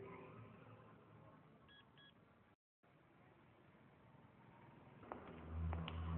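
Phone being dialed, giving a couple of short, faint electronic key tones in a quiet room with low background hum, followed by a brief dropout and some louder clatter.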